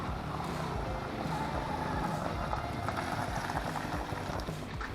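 A Tao Tao 110cc engine runs steadily after its carburetor replacement, a continuous dense mechanical drone with an even idle and no talk over it.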